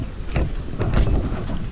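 Strong wind roars steadily in gusts against the microphone during heavy rain outdoors, a broad, rumbling blowing noise that swells and eases throughout with no clear voices.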